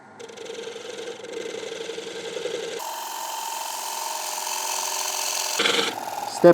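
A woodturning gouge cuts a figured blank spinning on a lathe, giving a steady scraping whir that shifts pitch as the tool's engagement changes and ends in a brief louder catch.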